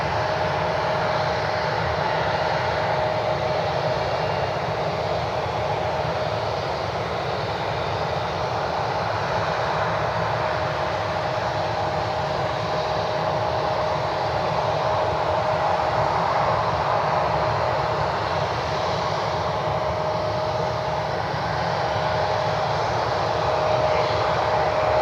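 An Embraer E175 regional jet of United Express arrives at Cleveland Hopkins airport at night, its engines a steady, continuous roar with a faint whine holding throughout, heard from a distance without any talk.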